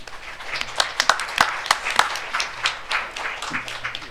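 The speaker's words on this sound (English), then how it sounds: "We're getting good claps all the time" Audience applause at a business and human rights forum, a short burst of scattered, moderately close hand claps that rise and thin out over a few seconds.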